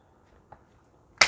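A single sharp hand clap cracks out of a near-silent room after a faint tap, close and crisp.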